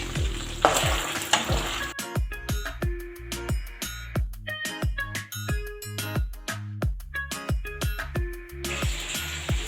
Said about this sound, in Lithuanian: dabar mes į tą pačią keptuvę pakepinsim truputį